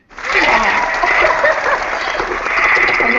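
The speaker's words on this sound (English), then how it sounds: "I get the applause." Applause sound effect dropped into a podcast episode, a loud burst of crowd clapping and cheering that starts abruptly and holds steady for about three seconds.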